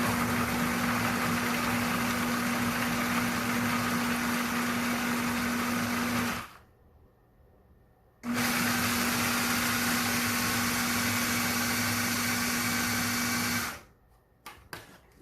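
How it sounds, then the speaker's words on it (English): Food processor finely grinding old-fashioned oats, a loud steady motor whir with a constant hum, running in two long bursts separated by a short pause and stopping abruptly at the end. "we are going to finely grind this up in our food processor"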